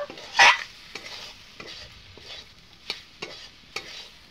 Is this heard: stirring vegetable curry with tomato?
yes